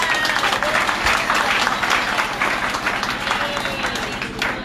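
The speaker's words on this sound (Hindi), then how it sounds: "ताली बजा के धन्यवाद करेंगे।" A congregation gathered for open-air street worship claps together in thanks, producing a dense, steady wash of applause that holds for several seconds with voices mixed in.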